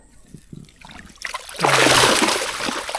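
Water with freshly caught fish poured into a container: a few faint knocks first, then a loud rushing splash and gurgle that lasts over a second before easing off.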